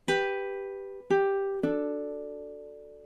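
Ukulele chord melody fingerpicked with thumb and index finger: three plucked chords struck one after another, each ringing and slowly decaying, the last left to sustain, clear and close with no talking.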